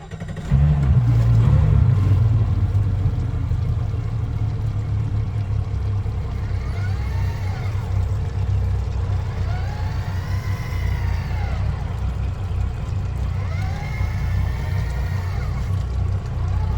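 Mercury engine running on a Sea Ray boat, a steady loud low drone with rough throbbing that holds evenly throughout, with faint rising and falling whines above it.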